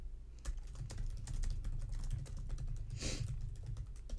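Close, steady typing on a computer keyboard while writing in the Ulysses app's typewriter mode, a dense run of rapid key clicks with one louder thump midway and no talk.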